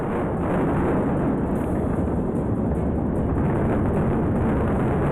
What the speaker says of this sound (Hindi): फिर जैसे ही उनमें धमाका हुआ, इमारत ढह गई।